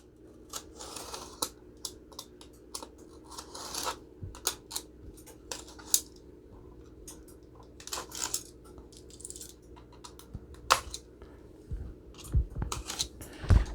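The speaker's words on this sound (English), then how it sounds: "we just come back with a sharp knife and just cut the tape right down the center." A sharp knife slices down the center of tape on pieces for a DIY Rubbermaid snake rack, giving a scattered run of short, close scratchy cuts and clicks with no talking.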